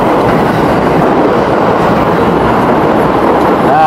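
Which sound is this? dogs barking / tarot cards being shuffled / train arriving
train arriving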